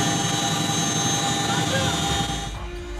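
Chinook helicopter lifting off with Korean and US special forces paratroopers aboard, a loud steady rotor and engine roar filling the scene before it drops away abruptly near the end.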